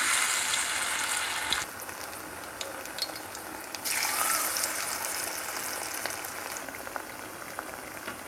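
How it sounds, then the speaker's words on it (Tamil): Battered food shallow frying in oil over a medium flame, a steady dense sizzle that holds throughout, briefly brightening and thickening in patches, close and fairly loud with no voices. "ஜஸ்ட்டு பேட்டரில் முக்கிட்டு நம்ம வந்து அது வந்து நல்லா கிறிஸ்பாக ஆகிற வரைக்கும் மீடியம் ஃப்ளேமில் வச்சு ஃப்ரை பண்ணிக்கோங்க"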